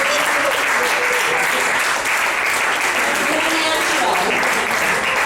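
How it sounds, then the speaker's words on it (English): Dense audience applause from a crowd, loud and steady throughout, with some voices mixed into the clapping. "give him a round of applause"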